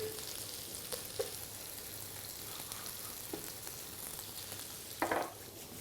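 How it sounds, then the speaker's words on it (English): Onions and garlic cloves frying in a pan, a faint, steady sizzle with a few light utensil taps and one louder scrape near the end, no talking. "the onions are starting to caramelize nicely"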